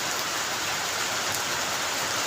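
A sudden shower, the first rain of the Bengali month of Ashwin, falls in a dense, steady hiss close by, unbroken and without any voices.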